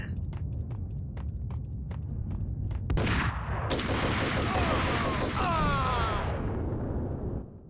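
Gunfire in the Max Payne video game: a rapid string of sharp shots, then a louder burst of blasts and rattling echoes that fade out, with no talking over it.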